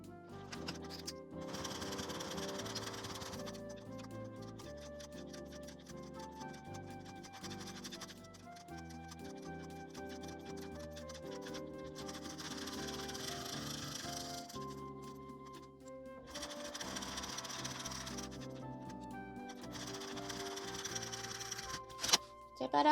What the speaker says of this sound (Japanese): 端を縫います。